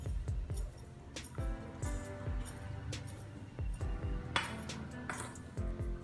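Spoon clinking and scraping against a bowl in quick irregular taps as corn is mixed with salt, black pepper powder and arrowroot, close and fairly quiet.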